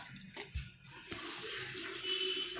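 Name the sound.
pouring ground coconut into batter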